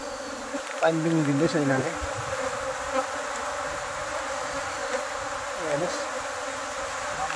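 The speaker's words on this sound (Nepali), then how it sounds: "हेर्नुहोस् है मौरी यहाँ एक ढुङ्गामा चढ्दै जाँदैछ क्लाइम्बिङ" A newly arrived swarm of honey bees gives a steady, close, dense buzzing drone throughout, with someone talking over it.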